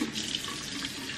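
Cold water runs steadily from a bathroom sink tap, a close, continuous hissing rush with no talk over it.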